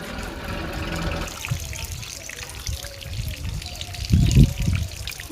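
Water is poured over a tin roof in a village home, trickling and splashing steadily with a heavier gush near the end, under faint background talk.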